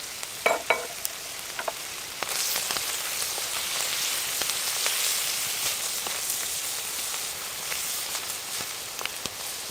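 Parsnip and spring onions fry in a pan over a camp fire, a steady close sizzle with a few crackles and stirring taps, no talking.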